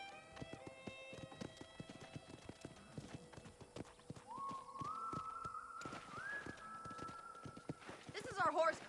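Horse hooves clip-clop in steady rhythmic steps in Red Dead Redemption on an Xbox 360 emulator, near a ranch horse corral, with a horse whinnying briefly and game dialogue and music playing over them.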